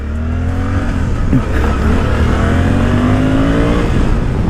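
A Suzuki V-Strom 800DE adventure motorcycle in A mode accelerates hard, its engine note climbing steadily through the revs, loud and close with a continuous rising drone and no talk.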